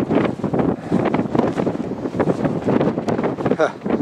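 Strong wind gusts on a hilltop by castle ruins buffet the camera microphone, making loud irregular rumbling bursts throughout, while a person talks underneath.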